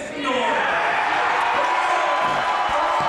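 A spirited home crowd cheering in a gym at a high school girls varsity basketball game between Viroqua and North Crawford, a steady roar of voices and shouts, loud and continuous, with a commentator talking over it.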